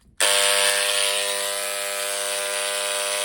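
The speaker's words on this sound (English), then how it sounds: "This will, with a sort of pneumatic drill type of movement, this will chip away at the smaller pieces of rock that are left" A pneumatic air scribe chips rock away from an ammonite fossil, starting abruptly after a brief quiet moment and then running as a loud, continuous high-pitched buzzing rattle, close and steady with no talking.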